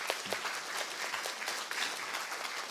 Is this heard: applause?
yes